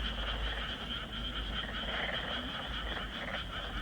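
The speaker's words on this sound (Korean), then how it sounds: "오랜만에 개구리 소리 들으니까" Frogs croak in a dense, steady chorus from a small rice-paddy-style pond on a summer night in the city, loud and continuous with no voices over it.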